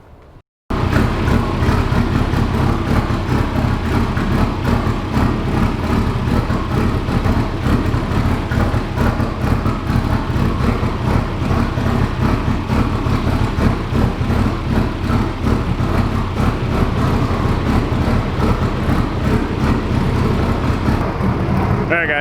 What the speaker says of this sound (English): As you can hear, the wagon has the same kind of like lumpy idle that Miss Huff had.